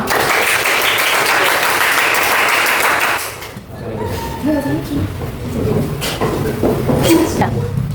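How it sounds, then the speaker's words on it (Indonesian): Loud applause from a crowd fills the first three seconds, then stops abruptly and gives way to murmuring voices and room chatter. "Tepuk tangan."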